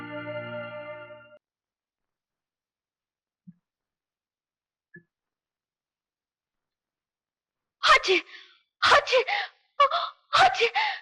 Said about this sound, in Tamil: அந்த அலர்ஜினாலதான் எனக்கு தும்மல் வந்துருச்சு